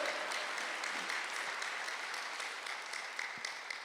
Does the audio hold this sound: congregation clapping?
yes